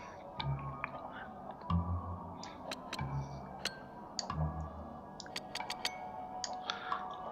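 Clicking of a mouse and keyboard during play of the game Genesis Noir, scattered sharp ticks and taps at close range over a low steady hum, with no talk.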